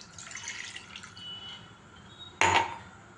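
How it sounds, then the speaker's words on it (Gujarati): A glass of water is poured into a kadai on a gas stove, a short splashing pour arriving near the end after a faint sizzling hiss, close by and with no talk. "તો એની અંદર હું 1 ગ્લાસ પાણી રેડીશ"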